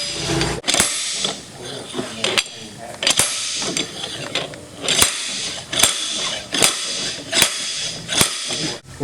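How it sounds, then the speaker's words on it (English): A slide hammer pounds a worn transmission shaft in a teardown, landing roughly a dozen sharp metallic blows at a fairly steady rhythm. Ratcheting mechanical noise fills the gaps between strikes. "We had to pound on it pretty hard with a slide hammer to get this off."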